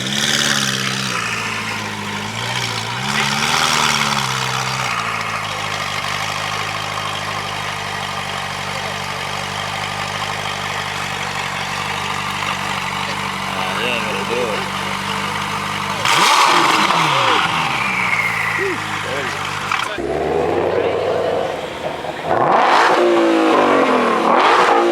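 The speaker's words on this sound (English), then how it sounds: "I've never heard a Ferrari F8 sound this good." A Ferrari F8 engine idling and revving at a Cars and Coffee meet, a loud continuous rumble with rising and falling revs and sharper blips near the end, close by.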